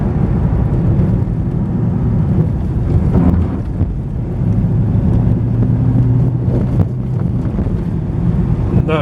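A rental car rolls along a maintained dirt road, its engine droning low and steady while wind buffets the microphone and the body rumbles and rattles over the uneven surface.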